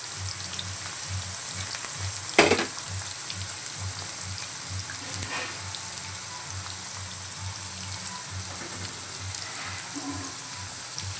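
Ivy gourd with crushed garlic and masala sizzles steadily in a pan, a constant close hiss with a few small pops and clinks.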